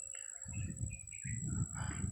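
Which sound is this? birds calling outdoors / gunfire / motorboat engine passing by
birds calling outdoors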